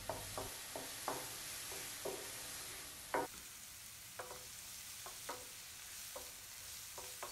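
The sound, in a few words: chopped mushrooms cooking in melted butter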